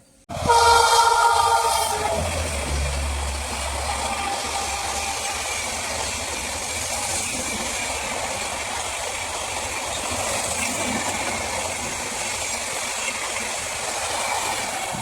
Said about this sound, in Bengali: ফাইনালি আমাদের কিন্তু ট্রেন চলে এসছে পাঁশকুড়ার একদম স্টেশনে